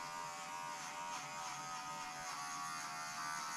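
Electric clippers trim a dog's eyelashes during a spring grooming makeover, producing a faint, steady close-up buzz throughout, with no talking.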